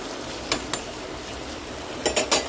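Brinjal curry with tamarind is stirred in a pot over a steady background hiss, with a couple of faint utensil taps early and a quick cluster of clinks near the end.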